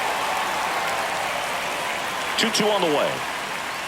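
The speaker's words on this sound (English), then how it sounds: "they will celebrate and applaud a great play on the field" Crowd noise fills a baseball stadium at a Red Sox versus Angels game, a steady broad roar of fans and applause under a commentator's voice, swelling briefly near the end.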